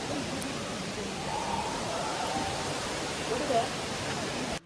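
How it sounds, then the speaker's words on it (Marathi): Steady broadband rushing of the hidden Kudlu waterfall in Karnataka fills the scene, a constant near roar of falling water with no pauses. "सो हे बघा शेवटचं हा असा होता वॉटरफॉल."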